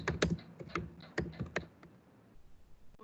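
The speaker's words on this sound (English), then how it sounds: "I'm typing the journal title." Taps on a computer keyboard while a journal title is entered, a handful of quiet, irregular clicks spread over the first two seconds before trailing off, close and faint against a low room hum.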